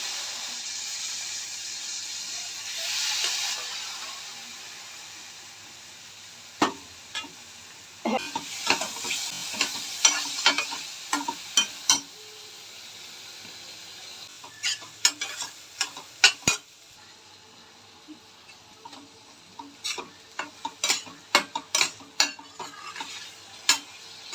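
Mushrooms stirred into a cooked masala in a pan for mushroom curry make a soft sizzle under bursts of quick spoon scrapes and clatters, in fast irregular clusters with short pauses between them.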